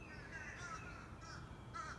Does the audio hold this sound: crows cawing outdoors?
yes